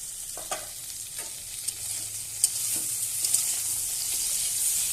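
Okra and potatoes frying in a pan are stirred, with a steady high sizzle and a few soft scrapes of the spatula at irregular intervals, close and without any voices.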